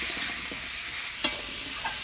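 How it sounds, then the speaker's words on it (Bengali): Potatoes and taro with turmeric and salt are stirred in hot spiced oil in a pan, giving a soft steady sizzle with one sharp spoon clink midway, close and moderately quiet, with no voices. "হলুদ লবণ দিয়ে আলু আর কচুটা নাড়াচাড়া করে নিলাম।"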